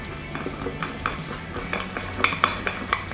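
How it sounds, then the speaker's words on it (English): A spoon stirs keto dessert batter in a bowl, giving a steady run of soft scrapes and light clinks against the bowl, close and clear with no talking. "now it's just a simple matter of mixing everything through until it's all well combined."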